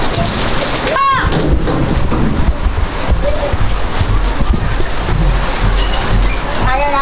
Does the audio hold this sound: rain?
yes